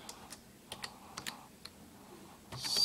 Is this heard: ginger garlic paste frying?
no